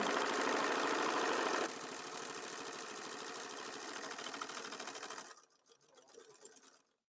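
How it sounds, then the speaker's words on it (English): A sewing machine stitches across one end of a fabric bag, a loud steady mechanical whir that drops a step partway through, then slows into softer separate stitches before stopping. "I'll just sew across one end because it really doesn't matter."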